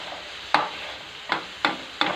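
Shrimp braised in fish sauce stirred in a sizzling pan, with four distinct scraping stir strokes over a steady low frying hiss, close and clear with no talking.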